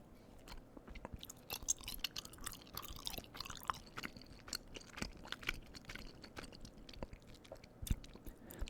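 Gummy bears being chewed close to the mic, soft sticky squishes and small crunchy bites in an uneven rhythm, quiet and intimate with no talking.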